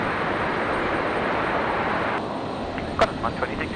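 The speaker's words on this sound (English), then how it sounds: "And the next arrival coming in, the Jetstar 816." Jetstar Airbus A321neo airliner arriving at Brisbane Airport, a loud continuous jet rush that drops off partway, followed by brief voice-like sounds near the end.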